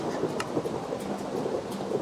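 Rain falls in a Minecraft world, a steady soft hiss of droplets with a faint low rumble of thunder underneath, with no voices.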